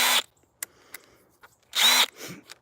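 A power drill fires up in two short bursts, a brief whine at the start and a longer high-pitched spin about two seconds in. Faint clicks and handling noises fall in the quiet gaps between.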